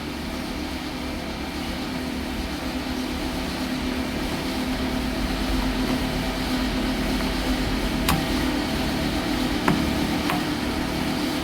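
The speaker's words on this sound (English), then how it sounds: "I'm trying to go ahead and troubleshoot what the exact issue is with this air compressor" A faulty air compressor running steadily, a dense continuous mechanical drone and hum, close and loud, with a few brief sharp clicks near the end and no talk.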